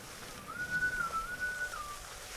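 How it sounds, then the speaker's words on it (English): A single clear, melodic whistled tune plays as in-game music in the skiing game Grand Mountain Adventure, wavering gently over a quiet background for about a second and a half. "I do love the whistling."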